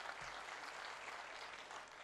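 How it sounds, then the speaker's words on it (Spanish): Audience applause at a fundraising dinner, a steady wash of clapping from a crowd holding at an even level for the whole stretch, with no voices above it. "Quiero que me le den un aplauso para que regresen a sus asientos."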